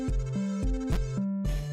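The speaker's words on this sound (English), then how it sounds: "So every time that we get a new clock sprite, it'll make a sound effect." A chiptune pickup sound effect for collecting a clock item in a 64x64 GB Studio retro game, built from bright square-wave tones that repeat in short bursts several times across under two seconds.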